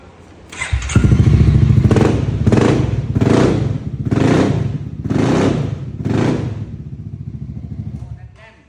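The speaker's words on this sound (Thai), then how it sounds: "ฟังเสียงเครื่องนะครับ" A 2021 Honda Forza 350 motorcycle engine starts near the one-second mark and runs close by, rising and falling in about six rhythmic revs before settling back to idle, with someone talking over the engine.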